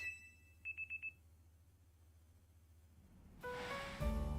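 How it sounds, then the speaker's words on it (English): Alarm clock going off in Pokemon Legends Z-A, a quick burst of four short electronic beeps, followed after a pause by a louder rising chime and tone near the end. "Your alarm is going off."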